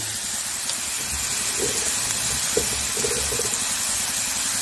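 Bamboo shoots cooking in a pan with chopped green chillies and tomatoes give off a steady, hissing sizzle and steam, close and continuous, with a few faint clinks over a low background rumble.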